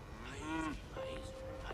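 Cow mooing in the Flambards video game, two drawn-out moos in quick succession, the first falling in pitch and the second held flat, close and clear with no talk.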